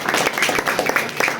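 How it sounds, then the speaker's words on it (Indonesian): Short burst of audience applause at a school showcase and talk show opening, a dense patter of many hands clapping unevenly for just over a second, fairly loud and close. "Ya, ada juga tepuk tangan"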